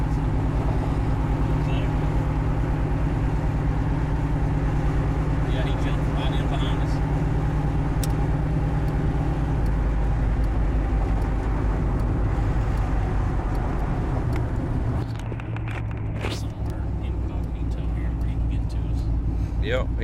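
A hot rod truck cruising down a road, its engine rumbling steadily with road noise for the whole stretch while people talk inside the cab.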